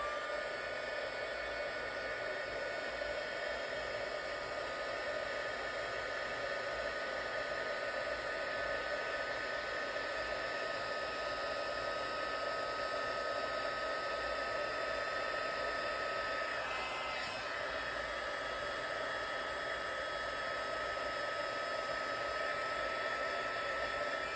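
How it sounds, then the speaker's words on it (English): A heat embossing gun blows steadily with a loud, continuous airy roar that runs unbroken from start to finish, with no talking. "So I'm going to just heat emboss this."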